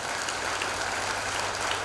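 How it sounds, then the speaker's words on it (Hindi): Congregation at a worship service clapping together, a dense, steady burst of applause held evenly for about two seconds. "ताली बजाइए।"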